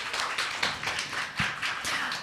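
An audience at a startup demo day claps steadily, a moderate crowd applauding in a dense, even patter that holds at fairly constant loudness throughout.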